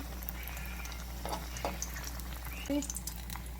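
Garlic frying in a pot with jack mackerel, a quiet steady sizzle with a few faint stirring clinks and light scrapes in a home kitchen.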